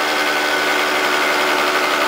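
A 2014 scooter engine running a hydrogen oxyhydrogen additive hums steadily at a mid-pitched, even drone, loud and close with no talking, holding a constant level rather than audibly dropping.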